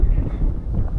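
Light wind blows across open mountain terrain in the Aspa Valley on the GR11 trail, a low, steady rumbling rush buffeting the microphone throughout the brief moment.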